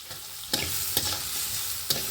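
Red amaranth greens frying in a pan, a steady broadband sizzle with three sharp stirring clacks spaced through it, close and fairly loud, no voices.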